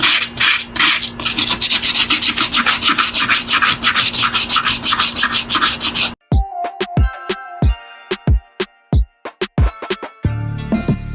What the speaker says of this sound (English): I'm going to use a piece of 120 sandpaper. This was just for one of my hand sanders.